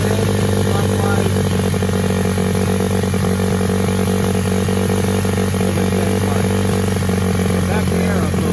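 Honda four-stroke dirt bike engine holding a steady low idle after a carburetor adjustment, loud and continuous throughout with a person talking over it.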